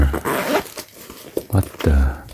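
Two quick zipper pulls on a horizontal pocket zipper of a Supreme x The North Face Steep Tech Apogee jacket, close and loud, each a rasping burst with a brief pause between.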